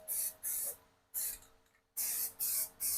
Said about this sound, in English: Time to spray. So I'm just going to try to spray as much as I can where I can't reach.